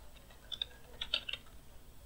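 Typing on a computer keyboard while filling in an email address on a coding practice website: a short run of faint, soft key clicks in an irregular patter, with no voice.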